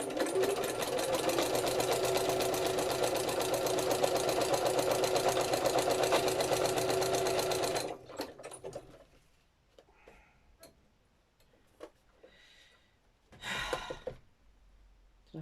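A sewing machine stitches paper journal ephemera in one steady, loud, close run for about eight seconds, then stops, leaving softer handling rustles and a brief burst of noise near the end.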